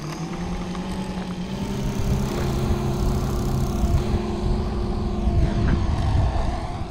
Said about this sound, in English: That awful sound is one of the belts slipping on the cyclorotors